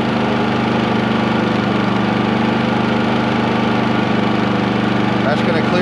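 Onan P4500i portable generator engine running on with its fuel supply cut off: a steady, loud, close mechanical drone with a constant low hum, still running throughout.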